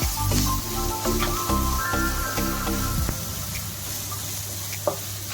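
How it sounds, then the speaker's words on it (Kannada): Garlic and green chillies roasting in hot oil for masala churmuri give a steady, close sizzle, with repeated scraping stirs through the first few seconds and then a softer frying hiss. "ಮೆಣಸಿನ್ಕಾಯಿ ಬೆಳ್ಳುಳ್ಳಿ ರೋಸ್ಟ್ ಆಗಿದೆ"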